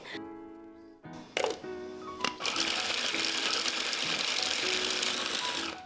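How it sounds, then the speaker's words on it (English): An electric food processor chops filling ingredients for wonton soup, starting with a few clunks and short bursts before settling into a loud, steady whirring grind close by that holds until the end. "We just need to do some food processing."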